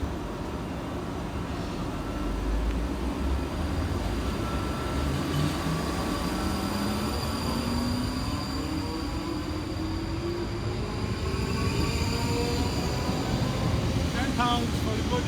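South Western Railway class 458 electric units 458417 and 458409 depart on a London Waterloo to Reading service, a steady rumbling roar with a gradually rising motor whine as they pull away, close and continuous throughout.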